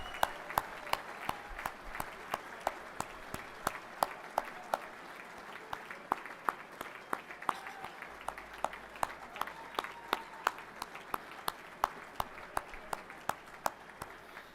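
A luncheon crowd at a Carlton premiership reunion claps for the 1972 premiership players, with steady applause of many hands sustained at an even level throughout.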